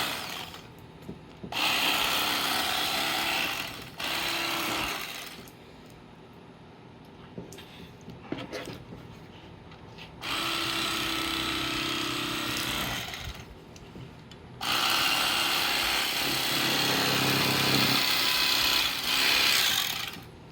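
The ribs of an Asian silver carp are cut out with a blade in several long rasping, sawing strokes. Each stroke lasts a few seconds with quieter pauses between, close-up and with no talk.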